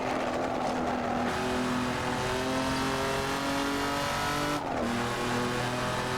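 Jaguar XJ13 racing car in Assetto Corsa, its engine loud and close as it revs up through the gears in rising sweeps, with short drops at each shift.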